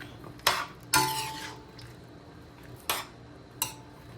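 A spoon stirs tomatoes, including green tomatoes, in a cooking pot, giving four or five sharp metallic clanks and scrapes spaced across a few seconds, close and clear with no talking.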